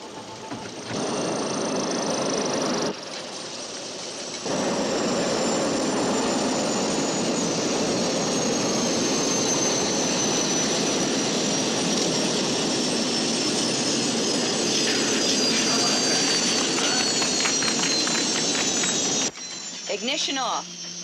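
A homemade spacecraft's engine roars during a hover test, a loud sustained jet-like rush with a slowly falling whine. It cuts out briefly near the start and falls quiet again near the end.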